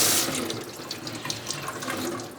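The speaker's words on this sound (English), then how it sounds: "just run some water through them" Tap water runs at a sink through a pair of football gloves being rinsed of soap, a steady, close splashing flow that continues without pause and with no talking.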